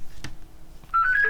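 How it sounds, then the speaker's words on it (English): A telephone gives a short electronic chirp of stepped rising tones in the last half second, fairly soft, after a quiet, muffled moment. "Oh, there's the phone."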